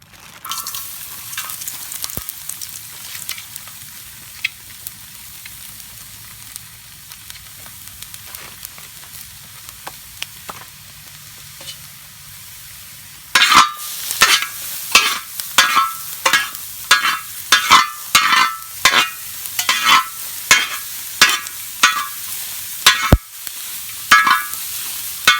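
Ingredients hit a hot Fire Disc Mini grill: after a quiet stretch of low hiss, a loud burst of sizzling frying erupts midway, with repeated scraping and stirring clatter continuing close up.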